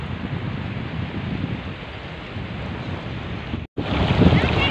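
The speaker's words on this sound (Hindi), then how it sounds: "ये है यमुना नदी" Outdoors beside the Yamuna River in the hills of Uttarakhand, loud wind buffets the microphone over a continuous watery rush, with a brief dropout before the gusts return stronger.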